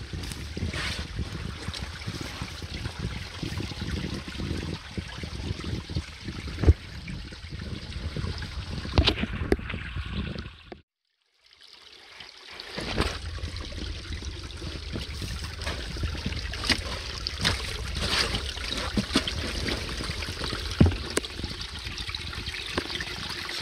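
Small waterfall in a burn at Mennock Pass, Scotland, a steady close rushing and splashing of water that drops out briefly near the middle before returning, with no voices.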